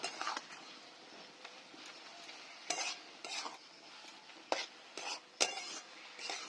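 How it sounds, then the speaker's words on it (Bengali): A spoon stirs an egg curry mixture in a pan, with repeated scraping strokes over a faint simmering sizzle, all at a quiet level. "এগুলো একসঙ্গে নেড়ে নিচ্ছি"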